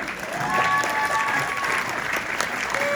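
New Year's magic show crowd in Tucson breaks into applause for a volunteer, many hands clapping steadily with a few cheers and murmured voices mixed in.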